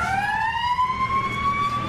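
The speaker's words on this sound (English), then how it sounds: "so you've got a train horn" A fire engine's train horn sounds in the video game EmergeNYC. It is a loud, sustained multi-tone blast that swells upward in pitch at the start and then holds steady to the end.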